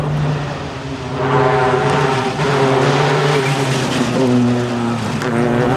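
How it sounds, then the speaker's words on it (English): A car pushed hard into a race-track corner, hooked over the curb with the tail sliding out, its engine roaring loud and close in one continuous drone whose pitch swells and dips as the revs change. "See how I hook the car into the curb there and feel the tail coming out"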